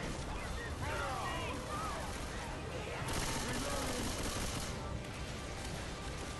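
Gunfire in Left 4 Dead 2 crackles in dense, continuous bursts over chaotic in-game noise, a steady barrage with players chatting over it.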